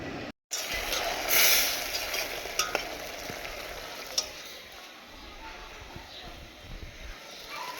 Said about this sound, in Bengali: চিংড়ি মাছ রান্না করছি, শাক ভাজি করছি।